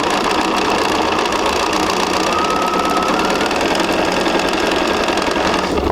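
Sewing machine stitching a quarter-inch seam in quilting fabric, a steady dense mechanical whir running loud and continuous without pause.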